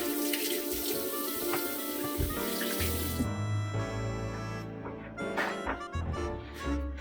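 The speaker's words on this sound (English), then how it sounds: "Let me wash my hands again." Hands being washed under a running kitchen tap while preparing meatballs, a steady broadband rush of water splashing into the sink that eases and turns intermittent toward the end, with no talking.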